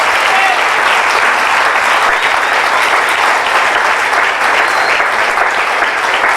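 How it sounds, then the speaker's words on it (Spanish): Sustained applause from a church congregation at an evangelical service fills the space, dense and steady clapping that stays loud and even throughout with no break. "Den un aplauso al Señor."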